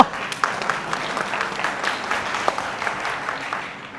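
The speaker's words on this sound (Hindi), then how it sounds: "आगे के लोग तो अच्छी ताली बजा रहे हैं" Workshop audience applauding in a hall, a dense continuous patter of many hands with a few sharper claps standing out, no talk over it and tapering slightly at the close.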